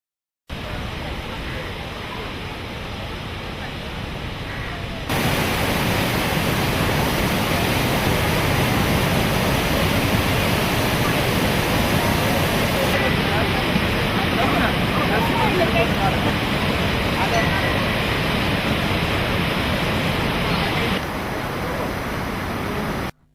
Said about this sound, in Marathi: पावसाळ्यात हा धबधबा अतिशय रौद्ररूप धारण करतो